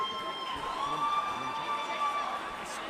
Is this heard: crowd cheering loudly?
yes